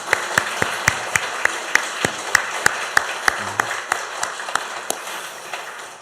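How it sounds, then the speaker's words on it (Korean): A church congregation at a Sunday harvest thanksgiving service applauds, with sharp, regular claps standing out above a dense wash of many hands, steady for several seconds. "우리 저기 교회 지붕 뚜껑이 열리도록 열렬하게 박수하십시다."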